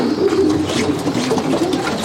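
Racing pigeons of one family cooing in a loft, soft throaty coos overlapping continuously at close range with light rustling.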